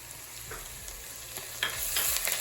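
Ginger and garlic sizzle softly in a pan of browned onions for a watermelon curry, with a steady frying hiss and light scraping stirs throughout.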